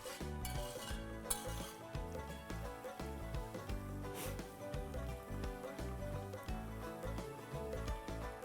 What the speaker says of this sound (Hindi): और इधर भुनाई जो है वो चालू है